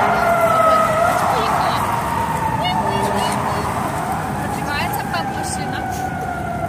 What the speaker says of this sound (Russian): Там пожарная машина, Маркулькин?